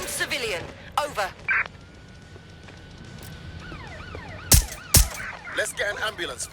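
An ambulance siren in the Watch Dogs Legion video game wails with rising and falling sweeps amid sharp gunfire-like cracks and other game sounds, moderately loud among brief bursts of noise.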